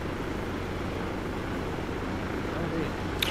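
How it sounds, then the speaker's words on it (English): Steady, dense rotor and engine drone from several helicopters flying in the military game Arma 2, a constant near roar with no letup, and no talk over it. "Why are there three choppers?"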